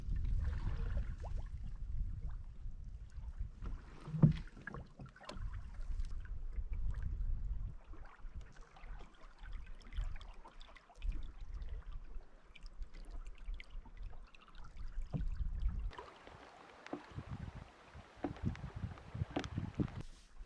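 A solo canoe sails across Loch Sionascaig in the Inverpolly wilds of the Scottish Highlands, with steady water lapping and rushing against the hull under gusty wind buffeting the microphone, close and continuous.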